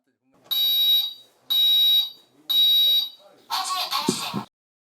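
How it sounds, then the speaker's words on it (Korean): A newly installed kitchen fire alarm in a rural home is tested, sounding three loud, evenly spaced electronic beeps, each about a second long, followed by a person speaking. "주방에 화재 경보기를 달아주고 작동 여부도 확인합니다"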